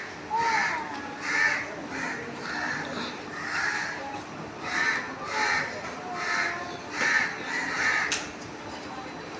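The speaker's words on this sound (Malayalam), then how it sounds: "ഇങ്ങനെ കാക്കകളുടെ സമ്മേളനം. ഇപ്പം നിറയെ കാക്കയായി" Many crows caw repeatedly at a railway station in Ernakulam, overlapping calls coming in a steady series of bursts across the whole stretch, fairly close and loud against a constant background hum.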